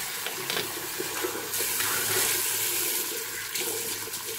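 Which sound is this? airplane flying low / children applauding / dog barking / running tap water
running tap water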